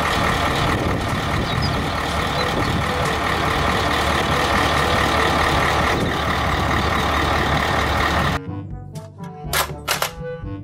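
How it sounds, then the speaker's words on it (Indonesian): A dump truck rumbles with a steady, loud engine drone for several seconds, then cuts off abruptly, followed by a few short clicks and knocks. "Mobil, dump truck."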